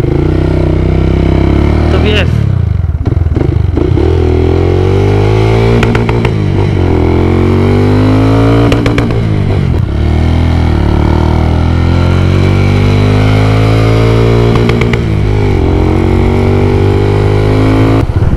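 A modified Yamaha VF3i motorcycle with an Exzos exhaust revs loudly and continuously up close, the engine pitch climbing and dropping through repeated throttle blips.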